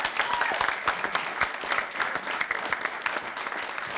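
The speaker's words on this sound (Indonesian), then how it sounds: "tepuk tangan buat Bapak Hindamsik" Studio audience applause on an Indonesian comedy quiz show, a dense steady patter of many hands clapping at moderate loudness for the whole stretch, with no voices over it.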